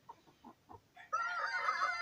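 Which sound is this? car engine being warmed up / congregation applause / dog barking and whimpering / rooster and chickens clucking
rooster and chickens clucking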